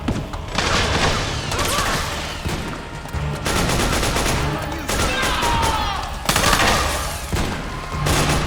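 Gunfire in Metal Gear Solid 4 rings out as loud bursts of rapid automatic fire and single shots, broken by short pauses, with dense overlapping reports close up.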